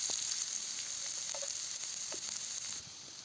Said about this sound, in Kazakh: Араластырып қуырамыз.